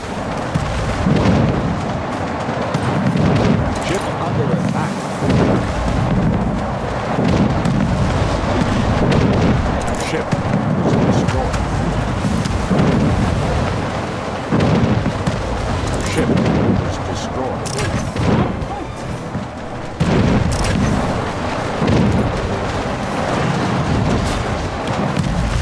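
Cannon fire and booming explosions from a naval battle in the strategy video game Anno 1800, continuous loud rumbling blasts layered over game sounds, with someone talking over it.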